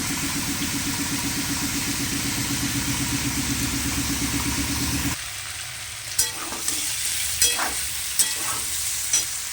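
Potatoes with turmeric fry over a black cumin tempering in a pan, crackling steadily beside a low rhythmic hum, then sizzling more quietly with a few sharp stirring scrapes.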